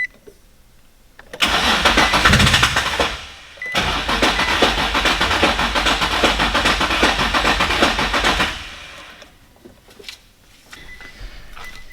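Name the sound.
Infiniti G35 engine cranking over with fuel pump fuse pulled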